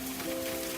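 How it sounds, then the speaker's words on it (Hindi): Steady rain falls outside a house during the first rain of the season, making an even, hissing patter with no breaks and no voices. "बाहर बारिश बढ़ती जा रही थी और बारिश घर के अंदर तक आ रही थी।"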